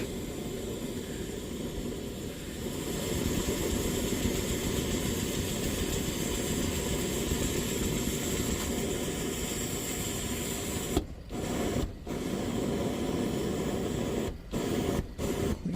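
A Preway M1942 camp stove burner running steadily after its valve is cracked open, a continuous close broadband rushing roar with a few brief dropouts near the end.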